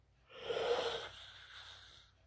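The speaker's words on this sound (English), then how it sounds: "Sorry, I keep yawning." A single drawn-out human yawn, breathy and rising then fading, close and fairly quiet with no talk.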